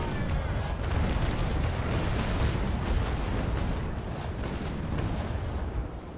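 Naval warship cannons fire a broadside in the Naval Action sailing game, a dense, sustained rumbling roar of overlapping booms that stays loud and continuous throughout.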